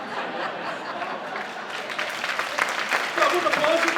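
An audience at a talk breaks into applause, scattered clapping and a little laughter building and growing louder toward the end.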